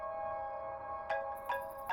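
A phone ringtone for an incoming call chimes three times at even intervals, each a bright tonal burst over a sustained musical background tone.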